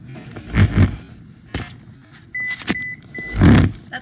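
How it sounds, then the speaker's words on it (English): A kitchen oven beeps to signal it has finished preheating, giving a few short electronic tones among nearby clattering and handling noises. "That's telling me my oven's heated."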